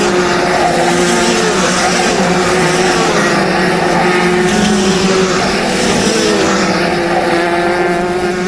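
Racing karts roar around the Whilton Mill circuit at speeds near 70 mph, a loud continuous engine drone with shifting pitch as the karts pass, and no talk.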